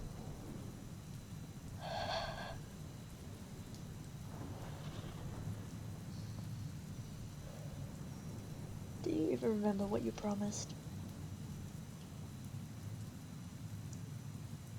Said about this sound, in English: It was raining that day, just like now.